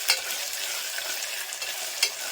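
Sliced onions sizzle as they are sautéed until golden in a pan for a breakfast appam gravy, a steady, bright frying hiss broken by a couple of sharp stirring scrapes.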